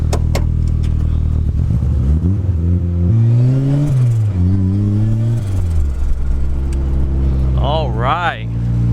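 A turbocharged Mazda Miata fitted with a custom downpipe and an eBay T3/T4 turbo revs hard in a cold garage, the engine climbing and falling in pitch through several loud pulls, with a sharp whistle-like whoosh near the end.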